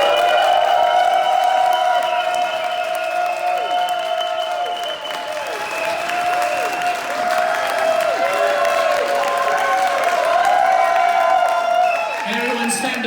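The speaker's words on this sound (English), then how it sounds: "Please, everyone join me for a beautiful, loud, and loving reception and applause" A crowd at a book reading breaks into loud applause with cheering and whoops, dense clapping running throughout while voices shout and call out over it.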